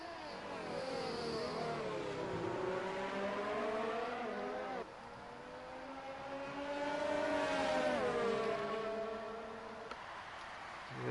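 Race cars lap in F1 2019 on the German GP track, engine whines rising and falling through gear changes, several cars overlapping loud and close.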